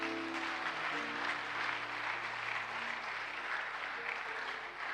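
A church congregation at a worship service applauds continuously, a dense, even wash of many hands clapping at steady loudness throughout.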